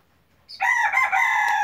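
A Serama rooster, the smallest chicken breed, crows once close by in a shrill, sustained call after a quiet moment.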